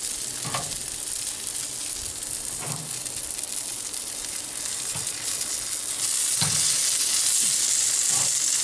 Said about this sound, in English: Hear all that sizzling?